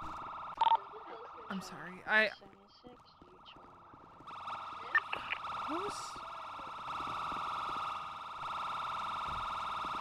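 A police car siren wails in a role-play video game, a steady electronic tone that starts partway through and keeps going to the end, with brief speech and other game sounds over it.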